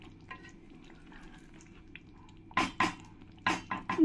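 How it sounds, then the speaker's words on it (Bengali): Foloi fish in mustard paste with a drizzle of mustard oil, stirred in a pan: a low steady sizzle, then several loud close scrapes and clatters of the spoon against the pan near the end. "এবার আমি বন্ধ করার আগে একটু উপর দিয়ে হালকা করে সর্ষের তেল দিয়ে দেব। দিয়ে ভালো করে একবার নেড়ে দেব।"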